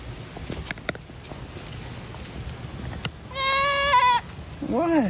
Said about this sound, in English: your noises are nothing like my goats